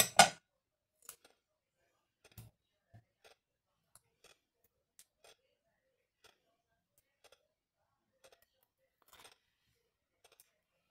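Scissors cutting paper for a small craft piece, a few faint close snips and clicks spaced out over near silence, with one louder handling sound at the start.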